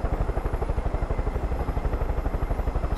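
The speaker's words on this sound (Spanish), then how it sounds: "este helicóptero mola" Helicopter in the video game Far Cry 5, rotor blades thumping in a fast, steady rhythmic chop over a low engine drone, loud and close, with no talk.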